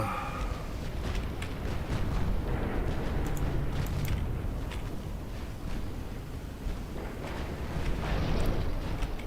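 Heavy naval gunfire and explosions from the warship video game Ultimate Admiral Dreadnoughts, a dense, continuous rumbling barrage with repeated booming blasts and crackling impacts, loud throughout with no speech.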